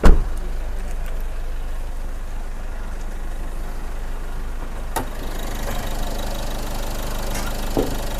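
An Isuzu D-Max X-Series pickup's 1.9-litre DDI Blue Power diesel engine idles steadily at close range with a low, even rumble and faint knocking clatter, and nobody speaks.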